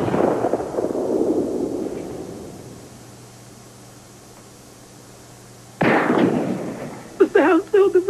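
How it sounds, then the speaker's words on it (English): A sharp gunshot bursts out in a soap opera scene, loud with a fading tail, after an earlier similar burst and a quiet stretch, followed by brief voice sounds. "It was a gunshot."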